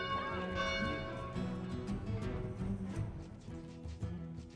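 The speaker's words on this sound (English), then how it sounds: "Let's sound the town bell." A town bell rings repeatedly in the city-building game Farthest Frontier, resonant tolls with long ringing overtones layered over a busy game soundscape, moderately loud and sustained.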